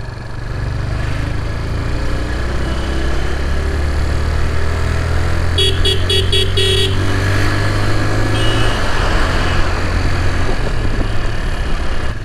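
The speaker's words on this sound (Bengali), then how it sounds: "এখানে দাঁড়ানো যাবে না, প্রচুর জ্যাম লেগে যাচ্ছে" A heavy traffic jam clogs a road in the town of Mandi. Truck and car engines idle in a loud, constant rumble, and a short burst of beeping rises over the din partway through.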